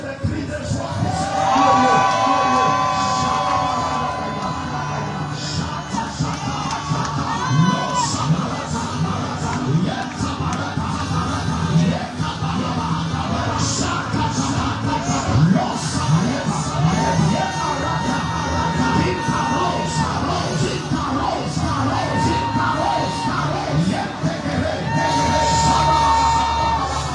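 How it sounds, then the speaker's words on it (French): A church congregation at a Wednesday worship service shouts and cheers for joy, a dense, loud, sustained mass of voices with whoops and yells that continues for the full length. "Est-ce que quelqu'un peut pousser des cris de joie"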